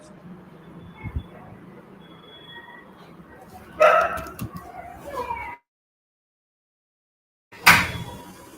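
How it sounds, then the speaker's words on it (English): A dog barks twice in the distance, short loud bursts separated by a silent gap, over a faint room hum with a little background noise. "I can hear the dog bark as well"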